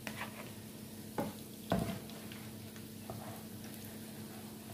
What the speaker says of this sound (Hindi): ये बहुत अच्छे से फ्राई हो गए हैं और इनको मैं निकाल रही हूँ